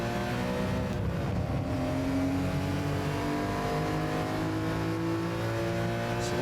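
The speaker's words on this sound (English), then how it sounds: "Downshifting down here, heel and towing. Down to second." Race car engine in Gran Turismo Sport held at a steady, fairly faint drone with layered harmonics and slight pitch shifts, as though working down through the gears to second.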